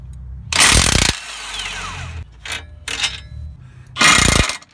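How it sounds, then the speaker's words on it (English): Impact wrench on a VW Jetta MK4 removing the sway bar bolt during a coilover install: two loud, close rattling bursts of about half a second each, with a few short fainter blips between them. "now that we got an impact wrench, it looks like it's going to be a lot easier"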